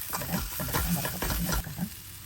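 Curry leaves crackle and sizzle in a small amount of hot oil, close and fairly loud, with quick stirring scrapes in the pan.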